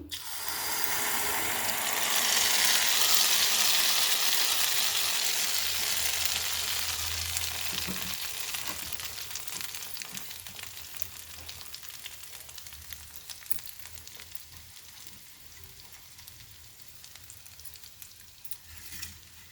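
Minapa rotti batter hisses and sizzles loudly as it is poured into a hot pan, then the crackling gradually fades to a steady, quieter frying sound.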